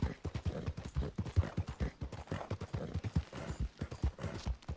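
Horse hooves clip-clopping in a steady, quick rhythm while riding through the Red Dead video game world, each strike distinct and fairly close, continuous throughout with no talk over it.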